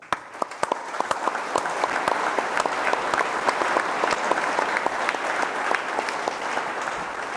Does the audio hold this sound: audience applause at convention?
yes